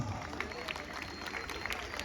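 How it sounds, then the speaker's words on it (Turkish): Crowd clapping for the champions at a football trophy ceremony in Beykoz: continuous, even applause from a gathered audience, heard together with a voice over a public address. "Şampiyonlara alkış"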